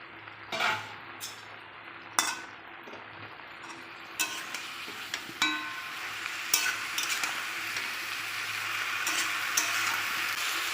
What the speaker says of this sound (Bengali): ভেজে রাখা সবজিগুলো দিয়ে দিলাম